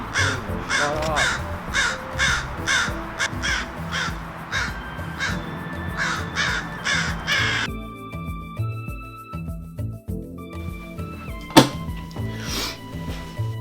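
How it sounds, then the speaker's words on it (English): A crow caws over and over in quick rough bursts, loud and near, then the calls stop and quieter background sounds remain with a sharp knock. "that goddamn crow did not want to shut up"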